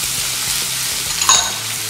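Coarsely ground ginger garlic paste frying with whole spices in a pan over low flame for chole, a steady close hiss and sizzle with a brief clink of a utensil midway.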